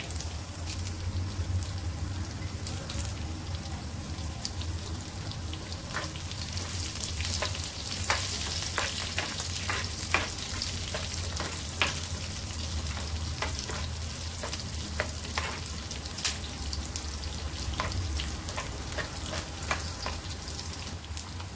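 Hot oil crackles and spatters with a dense, steady sizzle as garlic, curry leaves and chillies fry, punctuated by sharp pops, close by and uninterrupted by talk.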